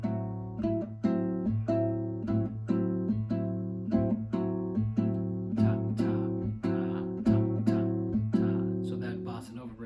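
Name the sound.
bossa nova rhythm guitar with bass line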